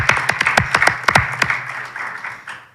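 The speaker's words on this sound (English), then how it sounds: "I think we need to clap then" Scattered applause from a small audience at an academic collaboration session, a few distinct claps rising briefly and then thinning out into a softer patter over a low steady hum.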